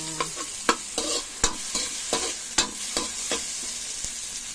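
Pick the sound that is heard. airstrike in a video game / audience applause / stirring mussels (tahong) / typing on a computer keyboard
stirring mussels (tahong)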